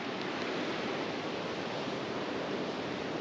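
Surf washing onto Sandy Mouth Beach on the windy Cornish coast between Morwenstow and Crackington Haven, a dense, steady roar of breaking waves and wind that stays loud and unbroken throughout, with no voices.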